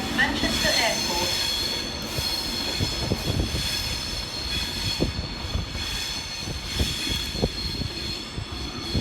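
A train rolls through Crewe railway station with steady rail rumble, rhythmic clicking wheel beats and high squealing wheels, loud and close on the platform.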